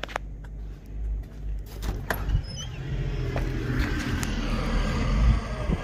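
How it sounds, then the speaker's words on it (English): An RM gravel truck pulls up outside, its deep engine rumble rising steadily and growing louder as it nears, with faint rattles and clinks over the low drone and no talk. "Dad with the RM gravel truck."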